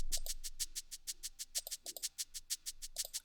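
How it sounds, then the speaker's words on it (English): A shaker sample from Nami's kit, treated with reverb and EQ that cuts the lows, shakes in a steady fast rhythm, bright and crisp, with a few soft lower hits between strokes. "the shaker by itself sounds like this."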